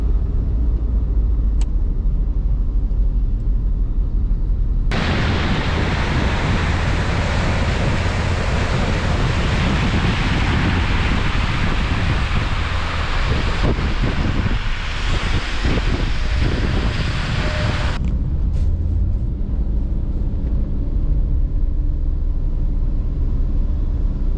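A car drives through deep flood water on a Bahrain street after heavy rain, starting with a low engine rumble, then a loud, sustained rushing splash for about thirteen seconds before easing back to a quieter rumble.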